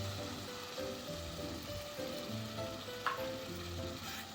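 Ginger garlic paste and tomato paste fry for veg Kolhapuri with a soft, steady sizzle, faint and even, with one brief splash-like burst near the end and no talking.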